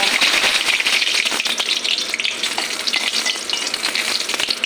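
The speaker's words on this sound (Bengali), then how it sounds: "সরষের তেল দিয়ে ফোড়ন দেব।" Bay leaves and whole spices frying in red mustard oil in a kadai, a loud continuous crackling sizzle with stirring rattles, close and alone without talk.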